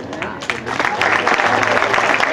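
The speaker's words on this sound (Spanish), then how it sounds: "Por favor, un aplauso, por favor." Students and guests at a secondary school event in Mexico break into applause for an introduced student, clapping that swells from scattered hands into a fuller, sustained round over a faint background murmur.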